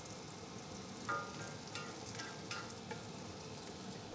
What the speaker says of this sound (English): we're going to want to give these caramelizing onions a stir